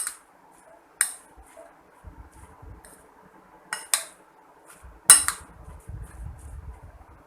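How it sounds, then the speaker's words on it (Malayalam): A spoon mixing ground masala paste into mango pieces for a mango curry, a series of sharp metallic clinks and scrapes against a dish, separated by soft, squelchy stirring. "ഇത് നമുക്കൊരു സ്പൂൺ ഉപയോഗിച്ചിട്ട് ഈ മാങ്ങയിലേക്ക് ഇത് മിക്സ് ചെയ്യാം"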